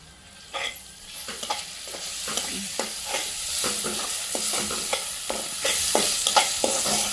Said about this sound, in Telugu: కొత్తిమీర మంచిగా గోలింది.